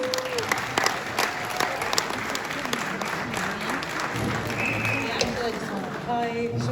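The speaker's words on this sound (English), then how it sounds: "Please give another applause to welcome Feyrouz" An audience at a lecture commemorating 75 years of the Nakba claps to welcome the speaker, with scattered claps and crowd noise throughout and a few voices mixed in.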